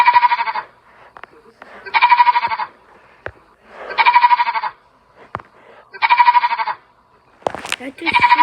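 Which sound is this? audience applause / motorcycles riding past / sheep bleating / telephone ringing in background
sheep bleating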